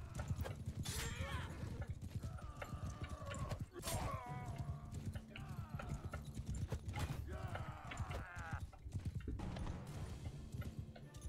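Horses in the video game Mount & Blade II: Bannerlord clip-clop in a steady, repeated hoofbeat rhythm with an occasional whinny, fairly close, under some faint talk.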